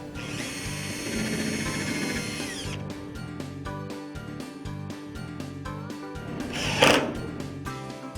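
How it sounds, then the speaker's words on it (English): A power drill bores a pilot hole through a sill support bracket during patio door assembly: a steady whining motor run for the first few seconds, then stuttering bursts of drilling and a sharp louder grind near the end. "Drill a pilot hole in the sill support bracket as well."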